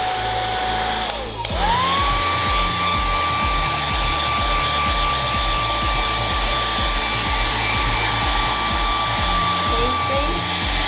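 A hair dryer blows steadily while drying hair, with a whining motor tone that shifts pitch as airflow changes and a rhythmic pulsing underneath from the dryer being moved back and forth, loud and close throughout.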